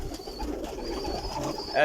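Pigeons in a loft of Chapra Sharga breed, giving a low, soft, close cooing murmur throughout, with a brief brighter sound at the end.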